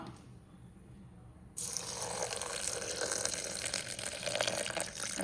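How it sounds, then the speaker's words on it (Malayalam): Milk being poured into a blender jar over banana, sugar and milk powder for banana juice, a steady close liquid gush that starts abruptly after a quiet moment and runs to the end, with no voices. "നമുക്ക് പാലൊഴിച്ച് കൊടുക്കാം."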